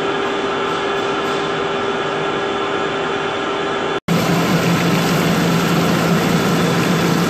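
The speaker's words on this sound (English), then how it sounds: "That's now on 44 revs per minute and it's way too fast for inconel 7/1/8." A machine trepanning a 12-inch hole in Inconel 718 runs at 44 revs per minute, giving a loud, steady mechanical drone with a tonal hum that cuts out briefly before resuming harsher and noisier.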